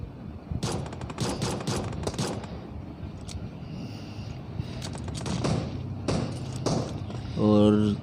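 Bursts of automatic rifle fire crackle in a battle royale shooter, with rapid volleys and scattered single shots close by, mixed with someone talking over the action.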